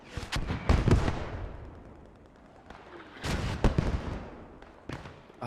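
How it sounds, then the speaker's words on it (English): Artillery shells from German tanks boom in a multiplayer tank battle game, two heavy clusters of blasts with a long rumbling decay between them, loud and fairly close, with no talk. "Seem to be getting a shelling over here on the north side. I'm assuming it's the German tanks that are supporting."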